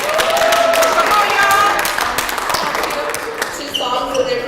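A gospel church audience claps in a round of applause welcoming a choir, a dense steady patter filling the room with a few brighter tones and voices mixed in, holding level throughout.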